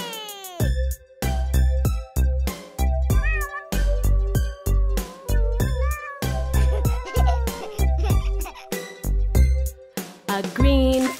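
A voice imitates a white cat, repeated loud meows in a quick rhythmic pattern over a bouncy nursery-rhyme musical backing.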